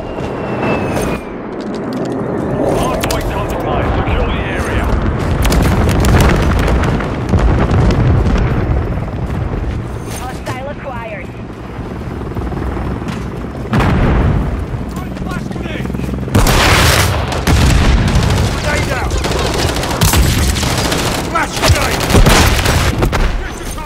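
Bombing run explosions in Call of Duty: Modern Warfare III, a string of heavy booms and rumbling blasts mixed with gunfire, loud and dense over roughly twenty seconds, with battlefield shouting among them.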